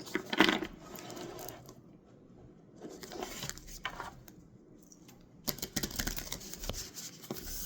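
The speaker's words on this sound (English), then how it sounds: "I'm going to shuffle till it feels like, that's a good shuffle" Soft papery riffling and patting of a deck of oracle cards being shuffled in bursts, close and quiet, with pauses between rounds.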